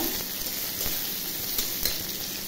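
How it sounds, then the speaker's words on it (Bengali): Dried red chili pieces with chopped onion and garlic frying in hot oil, a steady, close, dense sizzle that crackles continuously with no voices. "শুকনো লঙ্কার টুকরো এগুলো দিয়ে দিলাম। ভাজা ভাজা হলেই শাক দিয়ে দেব।"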